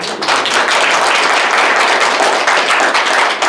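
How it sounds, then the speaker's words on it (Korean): A church congregation at a Sunday service breaks into loud, sustained applause, a dense wash of many hands clapping together that holds steady for several seconds with no talking. "박수 한번 칩시다."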